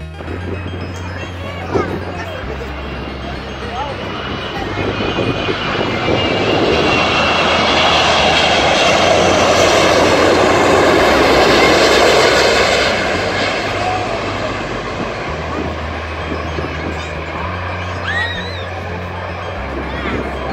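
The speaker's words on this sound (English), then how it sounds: "The largest passenger plane in the world." The world's largest passenger plane flies over a New York City pub beer garden. Its loud engine roar swells to a peak and then fades over about twenty seconds, above a murmur of crowd chatter.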